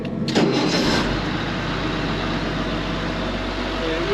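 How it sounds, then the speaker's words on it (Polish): Starter cranks the engine of a Case IH Steiger 9350 tractor in a brief burst at the start, then the engine settles into a loud, steady low rumble for the rest. "Czy to rozrusznik? Nie, to dobrze kręci."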